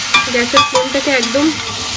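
Spiced food, with cumin, coriander powder, salt, turmeric and a little pepper, frying in a pan without water, loud close sizzling with intermittent scraping stirs, no talking.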